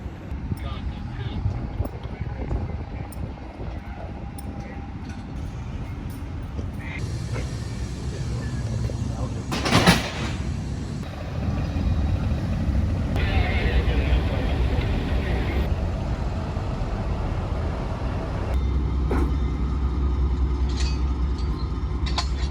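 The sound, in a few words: Amtrak Empire Builder train cars backing in and coupling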